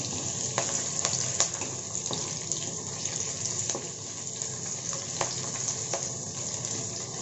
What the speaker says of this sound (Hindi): ऑयल गरम हो गया है हम इसमें कटे हुए प्याज ऐड करेंगे प्याज को दो मिनट के लिए भून लेंगे